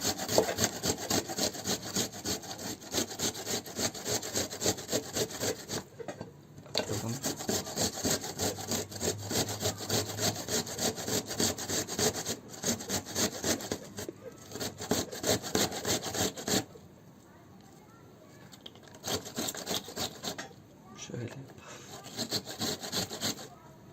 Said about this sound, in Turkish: Soğanımızı rendeliyoruz.